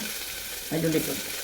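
Chopped ingredients drop into hot coconut oil in a cooker, setting off a short burst of sizzling and frying at close range, with a brief spoken phrase.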